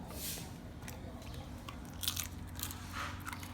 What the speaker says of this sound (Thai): เคี้ยวโชว์เคี้ยวโชว์